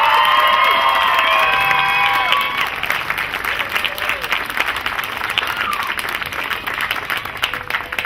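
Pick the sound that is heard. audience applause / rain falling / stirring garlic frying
audience applause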